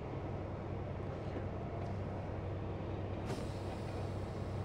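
A truck's air brakes during a tug test while coupled to a trailer in a pre-trip inspection, steady loud hiss of air under idling engine rumble, with a sharp burst of released air near the end.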